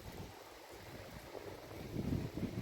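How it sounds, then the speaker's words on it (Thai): Wind blowing outdoors during snowfall, a low rumbling gust buffeting the microphone, faint at first and growing stronger toward the end, with no voices. "ดูลมด้วยนะคะ ลมด้วยเนาะ"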